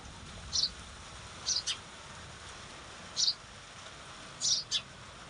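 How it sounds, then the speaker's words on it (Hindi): A male house sparrow in a rainy mountain village gives short, sharp chirps in scattered pairs and triplets over a soft, steady background hiss, fairly near. "ये है नर गौरैया"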